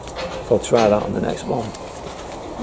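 Wood pigeons coo on a farm, a few soft rhythmic calls that a voice partly overlaps.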